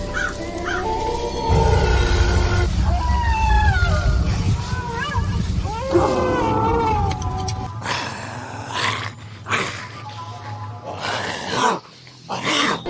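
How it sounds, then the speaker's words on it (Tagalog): Animal growls and roars with yelping cries, loud and continuous, some overlapping, ending in sharper bursts of noise. "Narinig ang atungal ng mga hayop"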